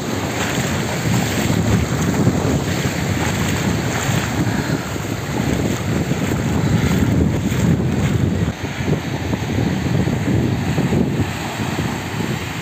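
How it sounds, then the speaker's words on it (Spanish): Beach ambience at Playa Macao in the Dominican Republic: strong wind buffets the microphone over a constant wash of surf, loud and steady throughout. "desde acá se aprecia la majestuosidad de esta playa"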